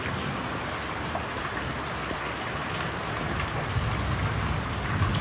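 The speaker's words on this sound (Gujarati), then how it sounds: "એટલો વરસાદ પડ્યો મિત્રો રણવાડી વિસ્તારમાં" Heavy rain pours steadily over farm fields in the Ranwadi area, a dense, continuous hiss of drops drumming on surfaces and water, close and unbroken throughout with no voices.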